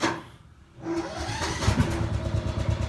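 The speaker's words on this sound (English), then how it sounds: "let it run, and it'll have a little bit of a rough idle" Gasoline tractor running on diesel fuel, with the idle set low. The engine starts up after a brief quiet gap and settles into a loud, rough, lumpy idle with steady rhythmic firing pulses, close by.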